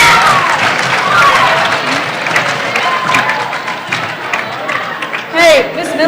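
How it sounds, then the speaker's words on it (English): A round of applause and cheering from students at a senior academic assembly, dense clapping mixed with crowd chatter and a voice talking over it, fairly loud throughout. "Give us a round of applause."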